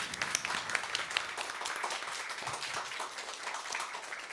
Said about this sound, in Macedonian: Ај прво ве молам аплауз за Мартин